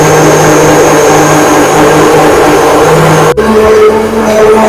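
A mixer grinder blends mint leaves with water for a chilled mint margarita, roaring loudly and continuously at close range, with a sharp click and a shift in motor pitch partway through before the grinding carries on.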